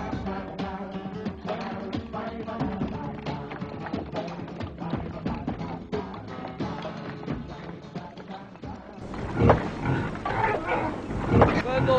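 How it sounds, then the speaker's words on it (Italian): Wild boars grunt and snort repeatedly, loud and close, with rough guttural bursts that grow more intense toward the end, mixed with busy background noise. "No, maiale molto pelosi, pelosi, selvaggi. Cinghiallo."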